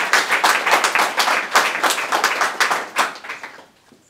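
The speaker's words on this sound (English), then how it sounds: "a huge round of virtual and in-person applause" An audience at a disaster challenge pitch event claps for the arriving pitch team, with distinct individual claps in a lively, fairly close burst that fades out near the end.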